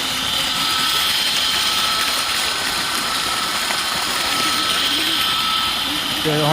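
A newly installed water pump motor runs with a continuous, loud, steady droning hum while voices talk over it throughout.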